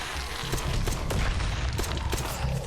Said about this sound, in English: So that was a double explosion right there.